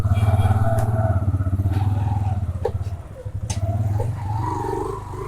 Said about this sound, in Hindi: मोटरसाइकिल अंदर लेके जा सकते हैं।